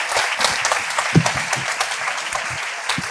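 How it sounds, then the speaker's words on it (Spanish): A room of listeners applauds at a clinical research talk, with loud and full clapping and a few sharper claps standing out now and then, sustained throughout. "Ahora ya sí, un aplauso."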